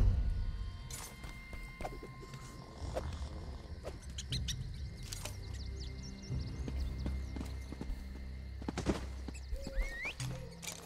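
Hoofbeats of a ridden horse in Elder Scrolls Online, a steady clip-clop running under game ambience with birdsong and other creature calls throughout.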